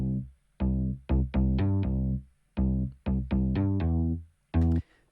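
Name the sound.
blended synth bass: 90s solid synth bass plus Dirty Planet, Logic Pro X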